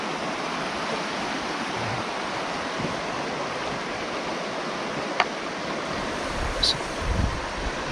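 A river rushes steadily outdoors at a gold panning spot in Germany, a continuous broad wash of flowing water with a couple of faint clicks and knocks nearby.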